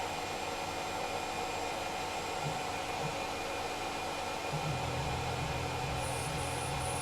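A Tormach PCNC 1100 CNC mill cuts a counterbore with a constant, dense mechanical hiss and hum. A low tone steps in partway through, and a few short high beeps sound near the end.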